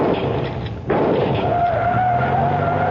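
Car tires skid in a radio drama scene, a loud sustained screech with a rising squeal tone after a brief dip, set amid gunfire at an armor-plated car.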